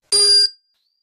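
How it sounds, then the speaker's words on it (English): A single bell is struck once, giving a bright, clear ring that sounds alone and dies away quickly into silence. "It's like the sound of this bell."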